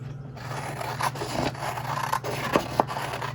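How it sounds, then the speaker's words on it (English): Paper corners for a junk journal are trimmed in short rasping, scraping cuts, close and fairly loud, with a few sharper snips toward the end over a steady low hum. "let me get my corners trimmed first"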